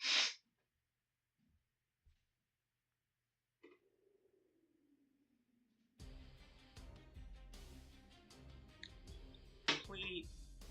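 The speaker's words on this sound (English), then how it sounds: "I have to sneeze all of a sudden" A single hard, sudden sneeze bursts out loud and close at the very start, followed by near silence with faint breaths and a low voice, before video game music and effects fill the last seconds.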